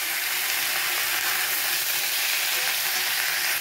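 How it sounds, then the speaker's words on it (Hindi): Onion, pointed gourd (parwal) and potatoes frying in a pan, a dense continuous sizzle heard close and loud without letup. "मिला के इसे 5 मिनट इसी तरह फ्राई करेंगे, इसका कच्चापन निकल जाएगा और आलू परवल भी फ्राई हो जाएगा।"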